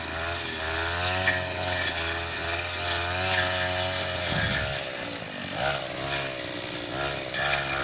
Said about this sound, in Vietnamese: cái máy này phát cỏ thì nó nhanh lắm